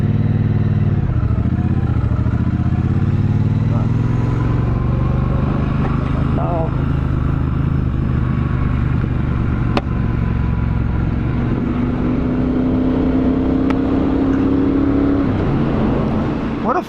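A Triumph Speedmaster motorcycle is ridden on the road, its loud engine drone rising and falling with gear changes under constant wind buffeting, and a steady higher tone holds for several seconds late on.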